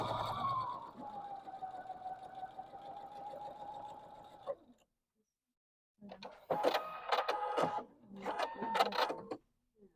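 A sewing machine stitches a quilt block seam along a marked line, first in a smooth run and then, after a brief silence, in two short close bursts.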